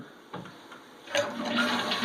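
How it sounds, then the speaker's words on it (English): A toilet flushes during infant potty training, with a soft click followed by rising, rushing water that swells and continues to the end. "Go ahead and flush it."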